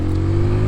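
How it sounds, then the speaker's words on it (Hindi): A car engine held near 3000 rpm with the clutch pressed down on a rainy ride makes a brief, steady mid-pitched drone with a strong low hum, close and loud, with no talking. "गाड़ी हमने खींची 3000, मैंने क्लच दबाया"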